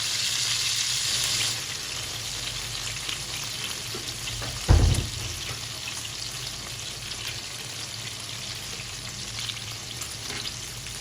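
A mutton burger patty sizzles steadily in a hot pan, with close, continuous frying crackle, one brief louder thump partway through, and no talking.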